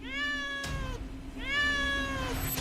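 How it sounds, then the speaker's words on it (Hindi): Two drawn-out cat meows heard indoors in a room, each a clear wailing call with falling pitch, loud and close with a brief pause between them and no speech. "कमरे में बार बार गूंजती बिल्ली की आवाजें"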